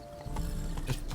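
Horse hooves clip-clopping in The Witcher 3: Wild Hunt, Blood and Wine, a steady close rhythm of hoof strikes with faint creaking tack, and no speech.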